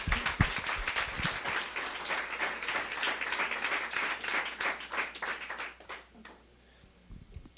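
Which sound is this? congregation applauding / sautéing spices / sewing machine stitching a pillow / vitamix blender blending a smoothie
congregation applauding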